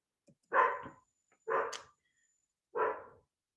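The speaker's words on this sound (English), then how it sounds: "Can you hear my dog, Amanda?" A dog barks three times at a steady pace, each bark loud and close, with short silent gaps between them.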